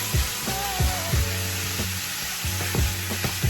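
Ground beef frying in an overly hot skillet with a little olive oil, a steady close sizzle with repeated scraping and stirring strokes over a constant hiss.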